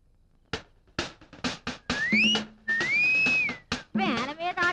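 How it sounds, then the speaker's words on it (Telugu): A person whistles a tune in a comic film scene, rising and sliding melodic phrases heard close and loud, interleaved with talking. "వేల మీద ఆట నడుస్తూ ఉంటే ఈలపాటేమిట్రా బాబోయ్?"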